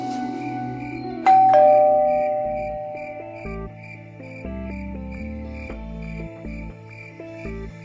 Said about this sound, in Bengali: আবার কলিং বেল কেন?